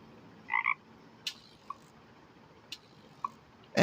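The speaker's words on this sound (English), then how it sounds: "F is for frog." A frog croaks in a short double call near the start, then a few softer single croaks and clicks follow at intervals over a quiet background.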